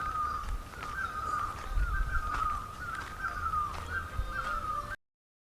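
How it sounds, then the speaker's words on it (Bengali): Birds call and crows caw faintly around a quiet hill village homestay at Pabung, Kalimpong, with a thin repeating call carried over a soft rustling background before the sound cuts off abruptly. "কি সুন্দর পাখির ডাক শুনুন।"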